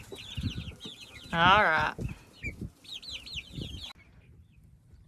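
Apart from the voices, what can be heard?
chickens clucking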